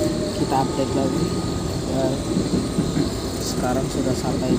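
Steady rumble of a commuter train interior on the line from Jakarta toward Rangkasbitung, a continuous low rolling drone with faint clatter, voices talking over it throughout.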